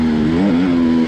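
An enduro motorcycle engine revs under throttle as the rider hits the front wheel, a steady loud drone that rises slightly midway, close and alone without talk.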